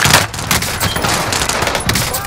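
Heavy video-game gunfire in a continuous dense fusillade, loud and close, with overlapping rapid shots and booms filling the whole moment, a voice faintly mixed underneath.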